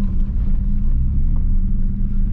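Renault Sandero RS engine revving against the rev limiter, a loud, close, rumbling drone that holds steady throughout without pause.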